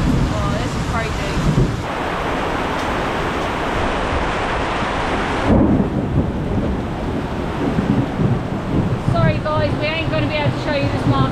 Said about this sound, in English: it says that it's not going to stop raining for the next 3 hours